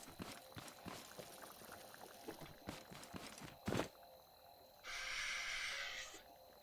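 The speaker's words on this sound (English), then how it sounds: "I was going to say there's a strange sound of water, and then I just realised it's the glow stick." Soft bubbling, water-like sloshing from a glow stick in Scrap Mechanic, a faint watery texture under scattered clicks and taps, then a steady hissing wash near the end.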